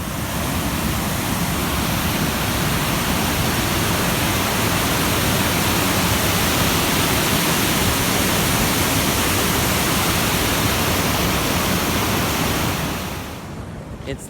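Water pours out of a small lake's reservoir in a loud, continuous rushing roar that holds steady, then drops away abruptly near the end.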